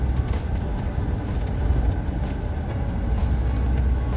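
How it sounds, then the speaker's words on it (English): A long cargo train carrying containers and tractor trailers rolls through a small town with a steady, heavy low rumble and rattle, close and continuous. "Watching this train for 10 minutes and it's been going faster than I have, so it's a long train"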